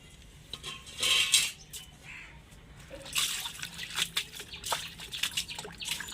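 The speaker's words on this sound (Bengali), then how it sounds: "বন্ধুরা এগুলো এরমভাবে ধুয়ে নিতে হবে গোটা কাটার আগে" Taro stalks are washed by hand in water, with close splashing bursts, sloshing and scattered drips, plus an occasional light clink of a vessel. No one speaks.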